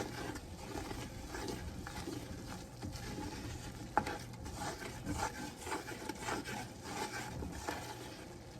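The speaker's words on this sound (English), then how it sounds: "we just want to keep stirring" Flour roux for a seafood, sausage and chicken gumbo being stirred steadily in a pot, a continuous scraping, rubbing texture with faint sizzle, close and moderately loud, no talking.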